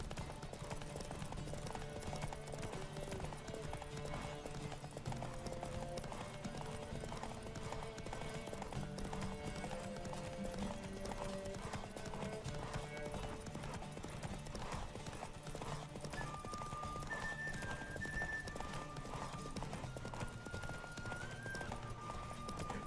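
Horse hooves clip-clop in a fast steady gallop during a race in The Witcher 3, with a horse whinny, shouting riders and game music over a continuous loud bed.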